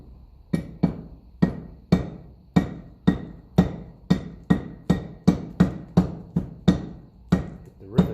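Steady hammer blows striking rivets on a Lucas dynamo from a 1954 Ferguson TEF 20 diesel tractor: about fifteen sharp, loud metallic strikes at an even, slightly quickening pace, each ringing briefly.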